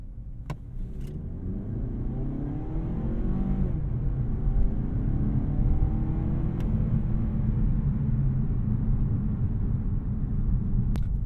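Cabin of a 2020 Mazda 3 on Bridgestone Turanza tires, accelerating from 10 to 50: a steady, loud engine and road rumble with a rising engine tone that climbs through the gears, heard continuously from inside.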